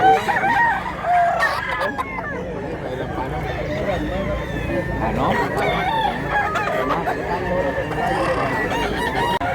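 Roosters crow among clucking fowl at a poultry sale in Mantalungon, Cebu, where stags and cocks are on offer; several crows rise over a busy, crowded background with people talking throughout.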